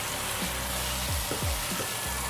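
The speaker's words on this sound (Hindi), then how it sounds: "ये जी मसाला हमारा अच्छे से भुन गया है।" Masala for bheja (brain) fry sizzles in ghee in a pan, a close, steady frying crackle with a few soft stirring scrapes, no voices.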